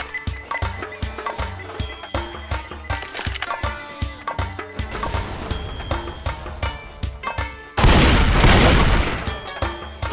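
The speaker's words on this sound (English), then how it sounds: "Throwing a pipe bomb!" A pipe bomb goes off in Left 4 Dead 2 with a loud, broad blast that roars for about two seconds, after a stretch of rapid gunfire and clattering combat noise.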